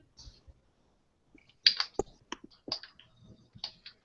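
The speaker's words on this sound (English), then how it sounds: "I don't see you, but I hear you typing." Scattered clicks of typing on a computer keyboard, quiet and irregular, in short bursts with pauses between.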